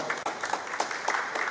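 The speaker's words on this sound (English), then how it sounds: "Please let's give her a round of applause." An audience at a professional association's annual general meeting gives a round of applause: a short burst of moderate, even clapping from a group.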